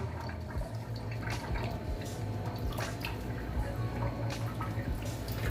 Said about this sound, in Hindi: दाल को अच्छे तरीके से वॉश करना है आपने